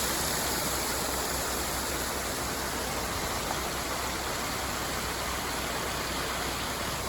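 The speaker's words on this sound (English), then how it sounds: "The force of that water" Water surging through an open paddle on a large canal lock on the River Avon, a loud, steady, broadband roar like a waterfall, constant and close with no voices.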